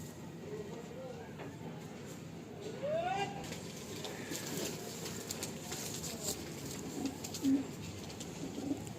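Kalanka high-flying pigeons coo softly in a loft, with a few low, brief coos near the end over a quiet background hum and faint talk.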